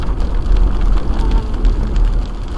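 Rain drumming on a moving vehicle during a drive over Marble Creek Pass in Baker County, Oregon: dense, steady patter over a low road rumble, with no voices.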